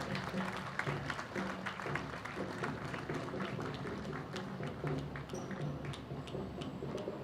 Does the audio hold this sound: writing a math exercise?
no